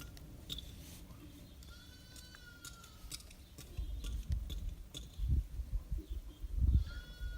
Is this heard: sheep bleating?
yes